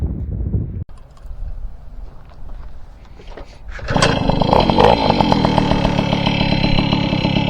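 A Tomos Flexer moped engine is kicked to life on a first ride, first a low rumble, then a sudden loud rise at about four seconds into a steady, raspy, high-revving buzz close to the microphone, with wind noise.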